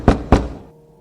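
Two heavy, booming knocks on a door, spaced evenly and loud, each with a short resonant decay, used as a sound effect in a spoken horror story.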